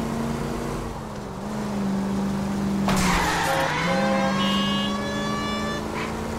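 A police car in the L.A. Noire video game attempts a pit maneuver, its engine droning steadily before a sharp impact and a drawn-out tire squeal that rises and fades over continuing engine noise.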